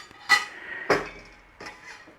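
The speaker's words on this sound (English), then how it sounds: "You take a trivet and you put it in your Instant Pot liner." A metal trivet set down into an Instant Pot liner, giving a few sharp metallic clanks and clinks: one bright hit, a second heavier knock, then a softer rattle as it settles.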